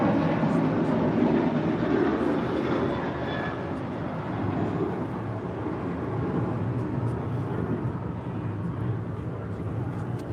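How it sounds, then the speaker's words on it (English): An Alaska Airlines Boeing 737-800 airliner departs from LAX, a broad, steady jet roar that holds at a loud level throughout, with faint voices underneath. "1446 departing to Los Cabos on a 737-800"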